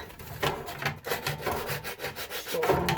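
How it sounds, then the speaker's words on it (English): Hand sanding of wood with 100 grit sandpaper, a scroll-sawn wooden letter M, gives repeated rasping back-and-forth strokes in a steady rhythm, close and moderately loud with no talk. "You get your 100 grit sandpaper, and you just go along it."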